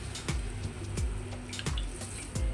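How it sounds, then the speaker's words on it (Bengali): Boiled dal is poured into a cooking pot for a Bengali kochur loti dish, making a steady liquid wash with a few soft plops and splashes, close and with no talking. "এবার আমি আগে থেকে ডাল সিদ্ধ করার ডালটা দিয়ে দিব।"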